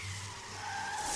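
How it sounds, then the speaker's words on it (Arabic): A car's brakes lock and the tires skid to a stop in one continuous squeal with a steady tonal whine, loud and close, with no voices. "ضغطت على الفرامل بسرعة"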